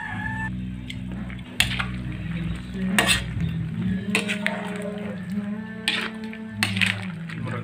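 Carrots, potatoes, hotdog and liver are stirred together in a pot for a Christmas dish, giving a steady scraping and clinking with scattered sharp utensil knocks over a low background hum and some faint voices.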